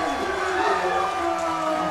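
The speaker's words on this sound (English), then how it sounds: "Look at that crowd, too." Powerlifting crowd at the SBD Pro American roaring after Ray Williams' all-time raw world record total, a dense, sustained wall of cheering and shouting close around, with no break across the moment.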